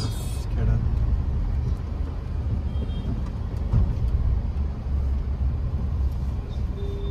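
Heavy road traffic stuck in a jam on the route from Ganpatipule toward Dapoli: a steady low rumble of idling and creeping cars, trucks and buses, close and continuous throughout, with people talking.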